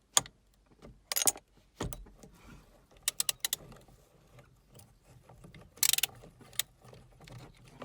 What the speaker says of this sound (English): Take a 24mm socket and unscrew the wheel itself.